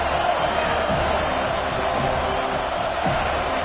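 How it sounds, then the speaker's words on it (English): A loud football stadium crowd roars steadily throughout, a dense wall of cheering and noise with no break. "The crowd is loud, hoping for a 4th down stop."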